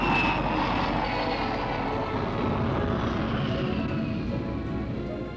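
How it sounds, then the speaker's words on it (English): A Vickers Super VC-10 airliner climbs just after takeoff at Brooklands, England, in the 1960s. Its engines give a steady, loud, broadband roar with a high whine that slowly fades as the plane moves away, with no talk. "steadily, easily, the big plane is airborne"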